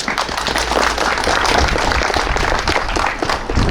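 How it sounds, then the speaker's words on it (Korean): An audience applauds at a school building completion ceremony, giving a loud, dense, sustained wash of clapping that swells and holds for several seconds without a break. "박수 한번 쳐주시죠."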